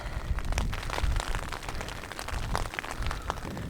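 Torrential rain pours down outdoors near a flooding pond, a dense, continuous hiss of drops pattering on surfaces, steady and fairly near with no voices.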